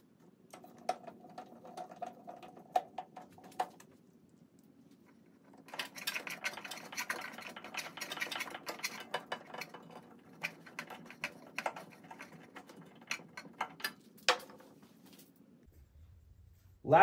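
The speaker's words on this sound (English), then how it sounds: "And then let's get the screws back in." Screws being put back into an OMTech Polar laser cutter after fitting an emergency stop switch, with scattered small metallic clicks, taps and rattles in an irregular pattern, close and quiet, with a brief busier stretch of handling.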